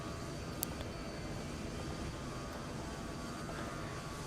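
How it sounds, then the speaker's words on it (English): A JetBlue airliner on final approach to Boston in a flight simulator, heard as a steady, wide roar of engine and air noise that stays level throughout, with no voices. "it looks like we got an airplane coming in right now"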